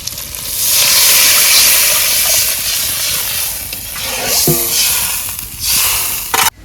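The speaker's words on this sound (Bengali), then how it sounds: "মশলাটা হয়ে গেছে এবার জলটা দিয়ে দেবো" Water poured into a pan of hot cooked spice mix, a loud rushing hiss that swells and slowly fades into a gentler sizzle, ending with a brief clatter.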